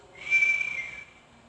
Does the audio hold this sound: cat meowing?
no